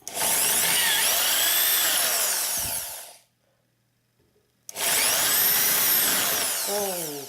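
A power drill bores out the tuner holes in a Telecaster-copy guitar headstock, enlarging them to around 10 mm: two loud, close grinding bursts of several seconds each, separated by a brief silence.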